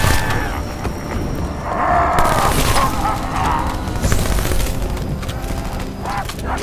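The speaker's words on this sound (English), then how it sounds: "Kinda hard to hear anything over the shrieks, explosions, and gunfire." Dense video game combat with booming explosions and rapid gunfire in a zombie mode featuring a ray gun, a continuous loud barrage with heavy low thuds and crackling bursts, no clear speech.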